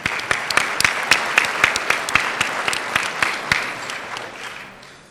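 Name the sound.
audience round of applause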